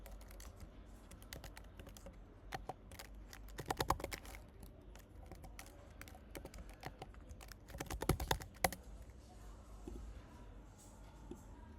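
Fingers type on a computer keyboard while coding in VS Code, producing quiet, irregular clatters of keystrokes with a few louder bursts of rapid taps.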